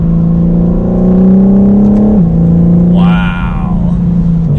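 A 2021 BMW M4 Competition coupe engine drones loudly from inside the cabin, its pitch slowly rising before a sharp drop as it downshifts, then holding a steady note.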